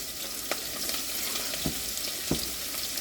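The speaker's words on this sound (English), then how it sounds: "I'm going to let my onions saute." Onions sauté in a pan alongside crispy bacon, producing a steady, close, hissing sizzle with a few soft stirring knocks.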